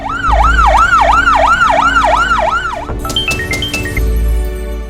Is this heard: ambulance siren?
yes